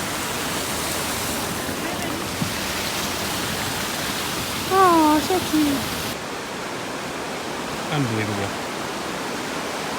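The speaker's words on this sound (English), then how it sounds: "All right, there's a little waterfall." Steady rushing water from a small waterfall along a mountain hiking trail near Skagway, Alaska, fills the whole stretch as a constant broadband hiss, with a couple of brief voices speaking over it.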